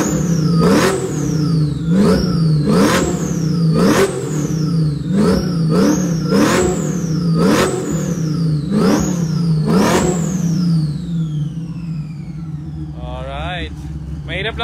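A V8 engine, from a showdown between a 2002 Mercedes-Benz SL500 and a 1969 Camaro SS, revs loudly and close in about eight sharp, rhythmic bursts with a rising whistle, then settles toward a steady idle.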